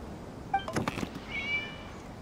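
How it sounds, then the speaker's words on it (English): A brief cat meow from a video game, a rising tonal cry, fairly faint and slightly electronic-sounding, over a low steady background hum. "it was just a cat"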